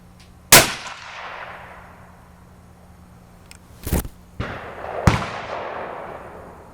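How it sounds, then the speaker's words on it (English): Rifle firing while a thermal scope is sighted in outdoors: one sharp, loud report with a long ringing echo, then two more sharp bangs close together later, all separated by quiet gaps. "So let's go ahead here and take a shot."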